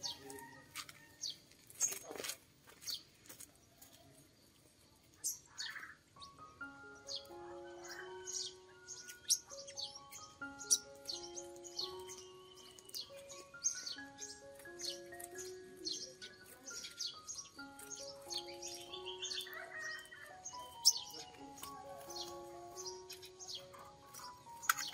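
Female scarlet minivets chirping, a stream of short, thin bird calls and twitters repeating throughout, fairly close and moderately loud, with quick flutters of wings mixed in.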